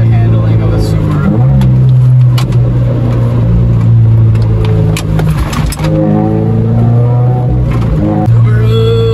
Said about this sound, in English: Watch the handling of a Subaru.